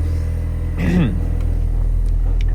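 Car engine idling with a Scorpion rear exhaust, a steady low rumble close by with a brief rise in revs partway through, then settling back to idle.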